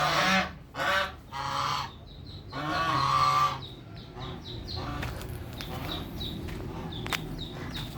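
Free-range village chicks cheeping, a run of short high peeps in quick succession, preceded by louder honking fowl calls from nearby birds.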